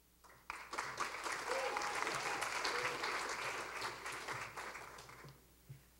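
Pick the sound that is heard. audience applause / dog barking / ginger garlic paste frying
audience applause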